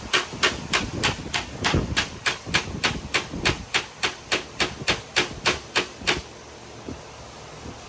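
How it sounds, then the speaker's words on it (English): Hammer blows on a metal wheel tub being fitted into a vehicle bed, a fast, even series of about twenty sharp, ringing strikes close by, then stopping and leaving quiet room sound. "Keep going. Keep hitting it. Hit more right there."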